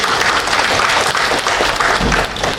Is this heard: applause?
yes